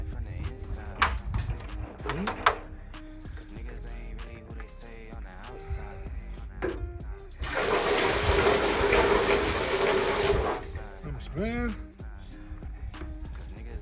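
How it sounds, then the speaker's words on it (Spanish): A bilge pump empties water from the compartments of an Air Tractor 802 firefighting plane, sounding as a loud steady rushing gush for about three seconds, framed by scattered clanks, knocks and handling noises. "este dispositivo o bomba de achique para vaciar el agua que nos quede dentro de los compartimentos"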